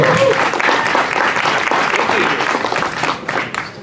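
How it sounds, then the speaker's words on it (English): Audience applause fills a presentation hall at Halloween Horror Nights 2015 for Universal Orlando's show director. It is loud, dense and steady for nearly four seconds, then tapers slightly, with faint voices mixed in. "Give him a huge round of applause."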